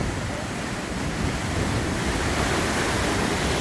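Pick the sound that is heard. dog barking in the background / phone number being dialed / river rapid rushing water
river rapid rushing water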